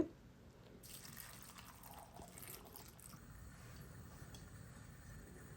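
Water poured into a curry pot of eggplant on the stove, a steady close trickling and splashing that runs alone through the whole stretch.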